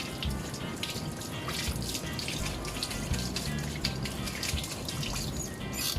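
Running tap water rinsing a bunch of freshly picked malunggay (moringa) leaves, a steady close splashing hiss with faint birdsong in the background and no talking.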